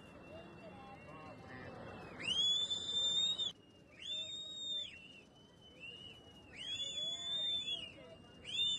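People whistling as an emergency warning during a cloudburst in Uttarkashi, several sharp, piercing rising and falling whistles from a distance, repeated in bursts over a muffled outdoor background.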